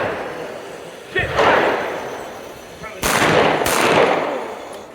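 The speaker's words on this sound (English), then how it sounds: "Fire at the target." Handgun shots fired at a target during a tactical moving-threats drill on a range: two or three loud, sharp reports with ringing reverberation, the second pair close together, over a background of outdoor noise and faint voices.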